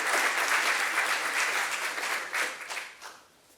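An audience at a medical lecture applauds to welcome the speaker: a dense, steady patter of many hands clapping, which peaks and then fades out over the last second.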